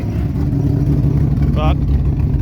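A burnout car engine idles rough and lumpy, tractor-like, loud and close with a deep pulsing rumble throughout; a brief whine cuts in midway.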